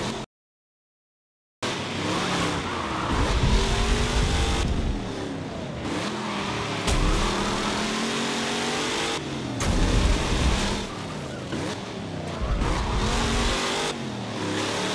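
A Chevrolet Nova race car in Forza Motorsport 7 revs hard and accelerates down straights, its loud engine roaring continuously with pitch sweeps between gear changes after a brief silent gap at the start.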